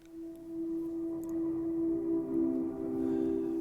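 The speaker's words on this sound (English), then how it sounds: "And then I had some synth sounds like this." Synthesizer patch from a MIDI template: a sustained, slightly wavering electronic tone with a siren-like quality, held alone and fairly quiet for several seconds, swelling a little toward the end.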